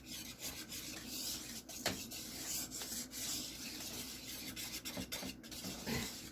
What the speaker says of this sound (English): Go ahead, whisk that in there.